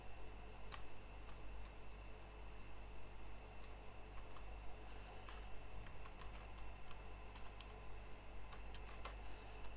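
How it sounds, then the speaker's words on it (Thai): Someone types an email address on a computer keyboard, with light, irregular key clicks in close bursts over a steady low hum, and no talk. "ให้เราทำการพิมพ์ email address ของผู้ดูแลที่เราต้องการเพิ่มเข้าไป"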